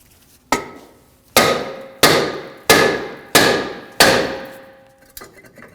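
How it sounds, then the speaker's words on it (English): A hammer strikes the hub surface of a 2013-2015 Subaru XV Crosstrek rear brake rotor between the studs, freeing it. Six loud, close metallic blows land at a steady pace, each ringing briefly before the next. "To remove the rotor, hit the rotor on the hub surface between two of the studs"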